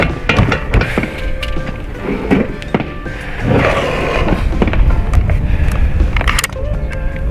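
A .50 caliber Dragon Claw big-bore PCP air rifle fires hollow-point rounds at a range, giving sharp close cracks and thwacks spaced irregularly across a few seconds over outdoor background noise.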